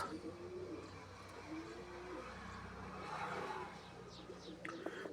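Pigeons coo softly in low, repeated murmurs against a faint background, with a few light chirps and no talking.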